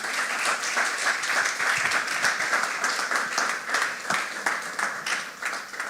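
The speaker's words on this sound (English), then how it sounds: "I don't know if we are preserving that clap for something else." Applause from an audience at a speaking event, dense and steady clapping from a crowd that holds fairly even and then thins slightly toward the end.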